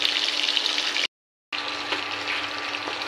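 Battered lote fish pieces fry in hot oil, five or six at a time, giving a steady, dense bubbling hiss up close. It breaks off into a brief total silence, then resumes at the same level.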